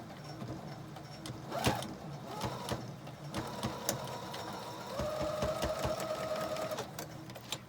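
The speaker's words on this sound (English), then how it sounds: "I'm going to put that triangle underneath the presser foot, and I'm going to just sew right here." Sewing machine stitching a fabric triangle under the presser foot, a steady mechanical whir with rhythmic needle ticks, louder and smoother in the final few seconds, close by with no talk.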